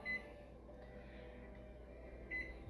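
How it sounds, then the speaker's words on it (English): A kitchen timer gives two short electronic beeps, one at the start and one near the end, being reset while broiling Parmesan tilapia, over a low steady kitchen hum. "And then we're gonna reset our timer."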